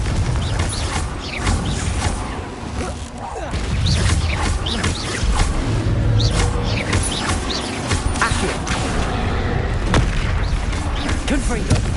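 Spell-blast explosions from the Confringo fire spell in the Hogwarts Legacy video game, dense booming bursts and crackling magical effects layered over busy game sound, loud and continuous throughout.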